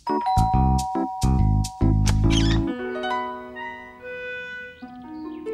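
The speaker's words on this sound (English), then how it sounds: "Did you ring the bell?" A cartoon doorbell rings as a string of bright, chiming tones, several quick dings in a row that fade into lingering, ringing notes.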